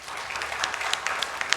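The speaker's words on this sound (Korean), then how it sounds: "박수." A church congregation at a Sunday service claps together, a lively burst of many hands with sharper individual claps popping out irregularly over the steady patter.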